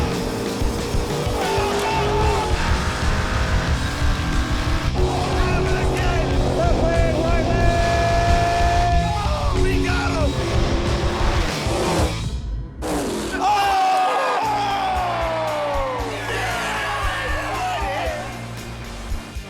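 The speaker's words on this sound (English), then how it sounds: "Let's do the burnouts." Drag race cars doing burnouts at Maple Grove Raceway, a loud continuous engine roar with shifting revs throughout, a brief drop near the middle, and crowd or announcer voices mixed in.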